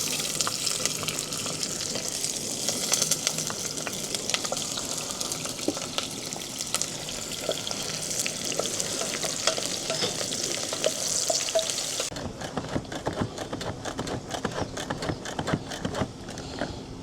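Chopped onions frying in hot oil in a pan, a dense, steady sizzle and crackle with stirring scrapes, close and continuous throughout and no voices.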